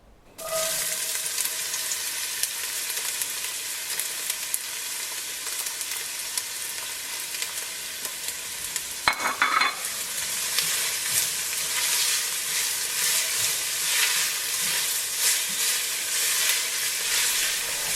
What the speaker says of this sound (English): I'm going to add my chopped onions and garlic in here